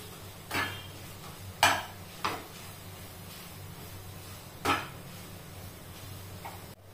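Fresh coconut mixture for coconut vadi worked in a pan, a quiet scraping background broken by a handful of sharp spoon-on-pan clacks at irregular intervals, no one speaking.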